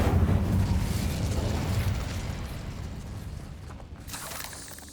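An Incendio fire spell in Hogwarts Legacy erupts with a loud, roaring whoosh of flame that is strongest at the start and then slowly fades into a crackling rumble.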